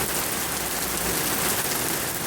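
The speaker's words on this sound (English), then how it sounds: "Raining pretty hard." Heavy rain pours steadily in Sochi during a June flood, a dense, loud and unbroken hiss of falling water with no voices.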